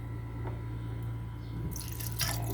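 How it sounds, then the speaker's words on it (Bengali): Raw green mango sherbet poured over ice, with a faint steady stream and dripping that swells into a brighter splash near the end, heard over a low household hum. "এখন আমি শরবতটা ঢেলে নিব।"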